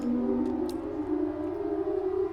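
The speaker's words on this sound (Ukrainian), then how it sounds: "Що за повітряна тривога, блін?" A steady civil defense air raid siren wails continuously in the horror video game Parasocial, a loud sustained tone filling the whole stretch with no pause.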